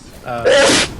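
A single short, loud sneeze bursts out close by during a card game session, lasting under half a second.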